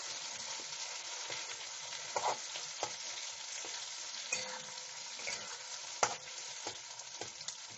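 Ground chana dal paste frying in ghee for shahi aflatoon halwa makes a soft, continuous sizzle broken by light scraping and stirring clicks, fairly quiet and alone.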